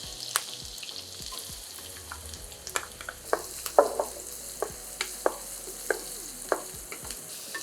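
Onion, garlic and green chili frying for a restaurant-style dal fry, a soft steady sizzle broken by repeated sharp spatula clicks and scrapes against the pan, close and alone without talk.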